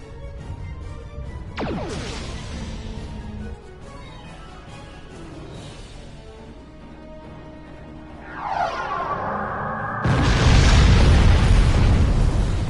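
Starship cannons fire and explosions go off in the space combat game Star Trek Online: a rising sweep, sustained weapon rumble and layered booms, ending in a loud, heavy blast that fills the last seconds.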